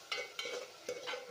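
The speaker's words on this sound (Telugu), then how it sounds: "కరివేపాకు తాలింపులో వేసి ఉల్లిపాయతో ఉడికిస్తేనే టేస్ట్ అన్నమాట" Curry leaves frying with onions in a hot tempering pan, a short stretch of close sizzling with three or four quick stirring scrapes and no talking.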